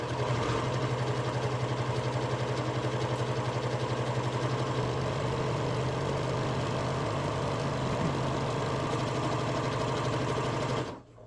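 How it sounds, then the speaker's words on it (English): A sewing machine runs one continuous, steady stitching pass down a seam on a boho ruffle top, loud and close with an even mechanical drone that stops abruptly at the end. "And we're just going to sew all the way down."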